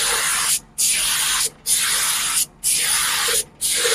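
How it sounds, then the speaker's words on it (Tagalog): Gray primer sprayed from an aerosol can onto a car licence plate, four long steady hissing bursts with brief pauses between them, close and loud, no talking. "Kahit na doon sa spray paint, huwag po masyadong matutok."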